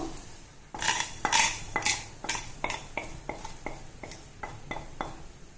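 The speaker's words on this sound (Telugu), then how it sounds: "ఇదిగోండి నీళ్లు మరుగుతున్నాయి కదా, ఇందులో ముందుగా వేయించి పెట్టుకున్నాం కదా వెర్మిసెల్లి అంతా వేస్తున్నాను." Roasted vermicelli for semiya payasam tipped into boiling water and stirred in the pot: a quick, steady run of about ten close metallic scrapes and clinks from a spoon against the vessel, with no talking.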